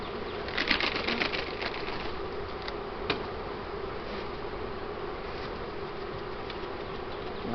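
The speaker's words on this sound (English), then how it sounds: "Visitor bees." Honey bees hum steadily around a hive being split, a continuous buzzing drone that holds at a moderate level throughout, with a few closer passes standing out briefly near the start.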